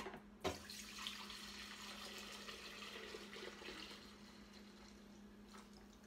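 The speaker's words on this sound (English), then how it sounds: "I'm about to pour in my alcohol." Alcohol pours steadily from a container into a Magic Butter Machine, a faint continuous liquid trickle with a brief knock at the start, heard close and alone.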